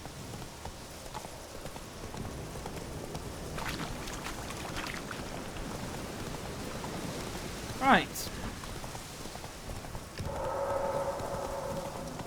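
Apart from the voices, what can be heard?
horse Roach's hooves clip-clopping in video game The Witcher 3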